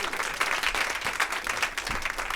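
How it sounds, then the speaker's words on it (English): Round of applause at a senior recital for the sound crew, dense sustained clapping from an audience, fairly close and steady without a break. "Another earth-shattering round of applause."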